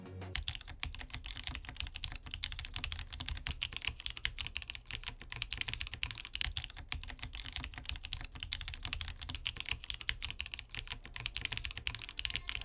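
Steady, rapid clacking of a QK80 mechanical keyboard with flex-cut PCB, dense continuous keystrokes heard up close and fairly quiet, with no voices.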